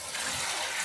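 Three liters of water pour into a pot of beef pulao, a brief, full splashing rush close by and alone.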